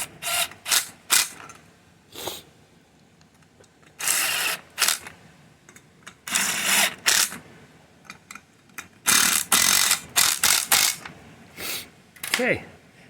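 A ratchet snugs down the oil filter housing bolts on a 2011 Mercedes GLK 350 X204 M272 engine, working corner to corner. Close, intermittent bursts of ratcheting clicks come with short pauses between them.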